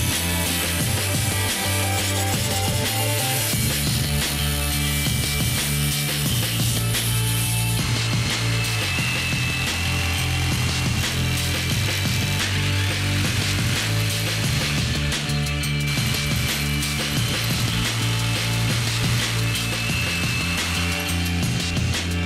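A power tool cuts metal camp stove pieces clamped together in a vise, a loud continuous grinding, buzzing cut with shifting pitch and rattling, sustained close-up for over twenty seconds.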